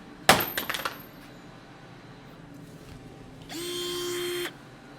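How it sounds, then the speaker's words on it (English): A cheap Hyper Tough cordless drill from Walmart gives a clattering burst of knocks and rattles up front, then after a quiet stretch runs with a steady, thin whine for about a second before cutting off. "Let's try the drill."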